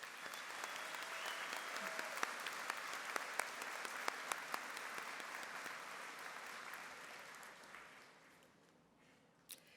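A room full of people at a university commencement ceremony claps steadily, a dense wash of applause that fades near the end.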